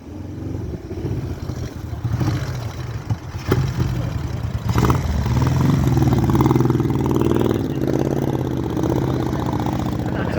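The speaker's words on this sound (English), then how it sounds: "Moto Guzzi, Italian Moto Guzzi motorbike engine in it." An Italian Moto Guzzi motorbike engine fitted in a Morgan replica car runs at a car show, idling with a loud throbbing rumble that rises and stays steady toward the end.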